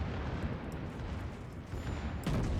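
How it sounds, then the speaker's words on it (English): Naval guns on a warship in World of Warships firing automatically, a dense continuous rumble of booming shots with a heavier blast near the end. "You can see my guns auto firing there"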